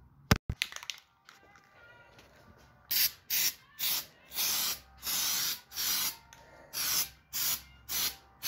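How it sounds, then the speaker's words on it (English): Rhythmic bursts of an aerosol spray can coat lowrider beach cruiser bicycle parts: about ten short hissing sprays in a steady pulse, close and loud, after a few clicks and rattles as the can is readied. "And I'm ready to spray this here."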